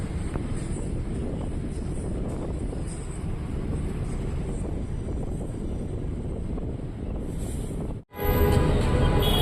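A state transport bus cruising on a highway at speed, heard from inside as a constant loud low rumble of engine and road noise with wind roar, cut by a brief dropout before the hum resumes.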